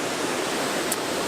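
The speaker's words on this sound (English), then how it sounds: "one of the locks where they are currently emptying the water right now" Water rushes out of a canal lock as it is emptied, producing a dense, constant roar of broadband noise with no pauses and no voices.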